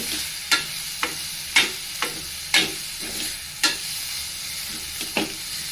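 Chopped tomatoes cook with tamarind in a pan for sesame and dried red chilli rasam. A steady, close sizzle runs underneath while a spoon scrapes the pan about once a second in sharp, evenly spaced strokes. No one speaks.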